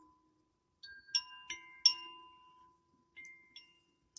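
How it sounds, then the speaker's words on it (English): A small bell with metal prongs shaken several times, producing bright, tinkling metallic chimes in brief clusters that ring out and fade, fairly quiet with gaps between shakes. "And then I also have a bell, which is really beautiful."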